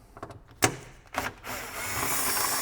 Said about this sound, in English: Now with the Torx T30 you can undo